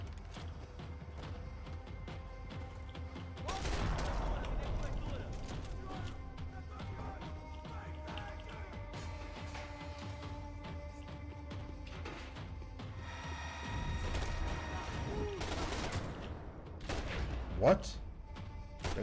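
Gunfire bursts in the video game Max Payne 3, several loud volleys around the middle and near the end over continuous game noise, with a player talking throughout.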